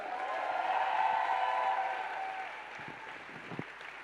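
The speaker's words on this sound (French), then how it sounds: "Est-ce qu'on peut encore l'applaudir, s'il vous plaît?" An audience applauds steadily, a dense wash of clapping that stays fairly even and then tapers slightly.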